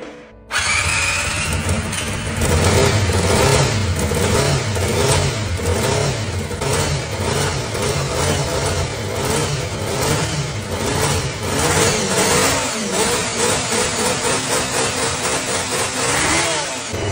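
The engine of a 1990 Honda CBR motorcycle, long unused and burning some oil, runs loudly and continuously, chugging with a rough, rattling rhythm and occasional small revs, close by.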